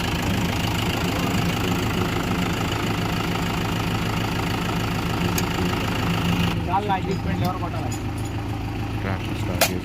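A tractor engine idling, a steady close chugging rumble with knocking pulses running throughout, with brief voices near the end.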